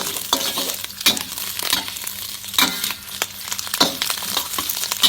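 Pork stir-fried with fermented soybean paste in a hot wok, a steady sizzle and fry broken by repeated scraping and clinking stirs at a roughly even pace, close and loud, with no talk.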